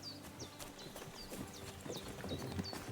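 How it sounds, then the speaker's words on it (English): Big draft horses clip-clopping in the game Kingdom Come Deliverance 2, a quiet, steady run of hoof clops along with some faint chirping birds, no talking. "Those are some big draft horses right there."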